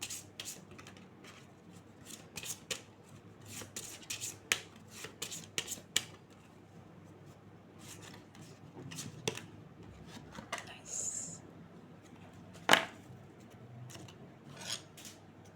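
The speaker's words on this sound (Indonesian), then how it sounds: "Saya akan ambil salah satu dari 4 kartu ini." Tarot cards are handled and drawn from a small spread: soft, close card slides, taps and flicks come in scattered bursts, with a few sharper snaps amid quiet room tone.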